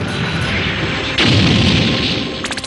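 A cartoon cannon firing potatoes lets out a loud, booming blast that swells midway and then thins out, ending in a few quick popping bursts.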